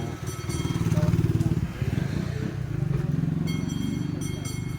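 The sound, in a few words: motorcycle engine running, exhaust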